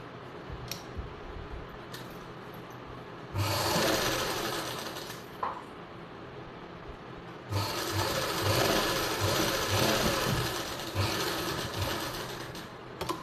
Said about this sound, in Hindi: इसी निशान से पहले हम इसको इस तरह से यहाँ से सिलाई लगाएंगे